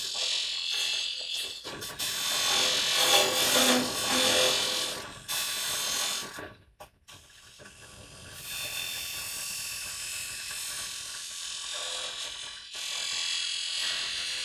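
Carbide lathe tool turning wood, a steady broadband scraping hiss that runs for several seconds, breaks off briefly in the middle, then resumes at a fairly even level.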